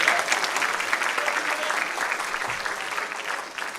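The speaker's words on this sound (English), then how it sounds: "give a round of applause for all the people sitting in the audience" Students and guests applaud at a high school senior awards ceremony, a steady round of clapping from a sizable audience, moderately loud and continuous, with no speech.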